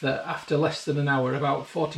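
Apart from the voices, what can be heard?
No everyday noise stands out behind the speech.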